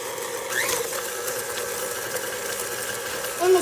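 An electric mixer whirs steadily through sugar cookie dough made with egg and vanilla, a close, constant motor hum with small rattles and a brief bump near the end.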